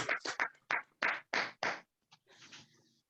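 A congregation at a Sunday worship service claps to welcome a speaker: a quick run of sharp, distinct claps, then a few scattered trailing claps fading out, fairly quiet overall.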